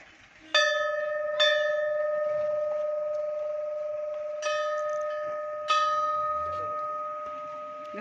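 A metal temple bell at a Kali temple is struck four times, each ring loud and near, leaving a long bright tone that slowly fades before the next strike.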